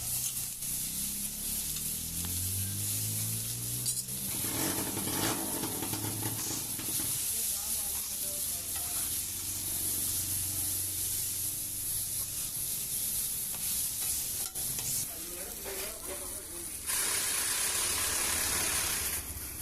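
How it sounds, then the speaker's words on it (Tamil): Raw mango pieces fry lightly in oil with a little salt, a constant close sizzle and hiss running throughout with occasional stirring scrapes and clinks. "லேசாக கொஞ்சோண்டு உப்பு போட்டு கொஞ்சம் ஆயில் ஊற்றி கொஞ்சம் லேசாக ஃப்ரை பண்ணிக்கலாம்"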